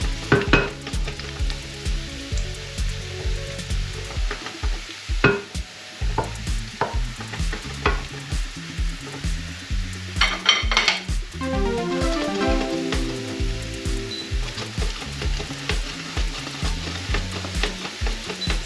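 Langoustines fry in hot oil with garlic, a continuous crackling sizzle with scraping stirs and utensil taps against the pan, close and fairly loud.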